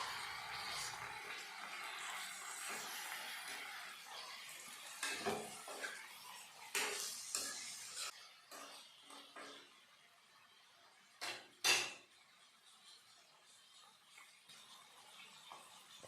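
Chicken pieces stirred and scraped in a metal pan after frying onion, ginger and garlic, with soft clinks and scrapes, a few sharper utensil knocks against the pan, and a quiet sizzle underneath.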